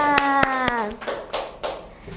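A handful of scattered hand claps in a chemistry classroom, close and sharp, overlapped by a voice and followed by a few softer bursts of noise.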